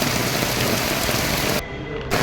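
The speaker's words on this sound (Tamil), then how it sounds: "எப்படி மழை பெய்யுது" Heavy rain pours outdoors in Kerala, a dense, steady, close hiss of water striking surfaces that dips briefly near the end before resuming, with no voices.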